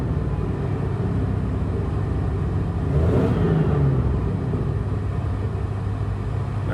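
A 1967 Rolls-Royce Silver Shadow engine runs at a steady idle, then a single tap of the gas brings a brief rev swelling midway before it settles back to a low, even rumble.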